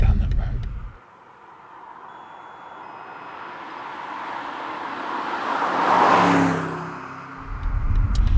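A 2019 BMW M850i engine builds up loudly, surging as it accelerates past and then fading away, with wind and road noise around it.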